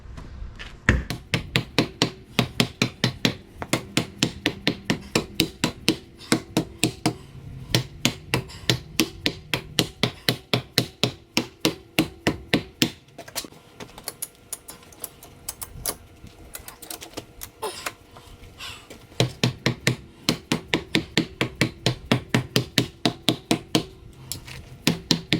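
Repeated sharp dead blow hammer blows on metal hot rod cockpit bracing in fast steady bursts, close and loud, with a short pause midway before the rapid striking resumes.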